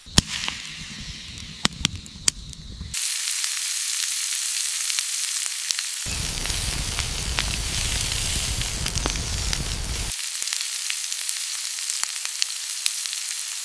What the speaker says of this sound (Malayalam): ഇനി മസാല തേച്ച് വെച്ച ആട്ടിറച്ചി ഈ തീക്ക് മോളി വെച്ച് നമുക്ക് ചുട്ടെടുക്കാം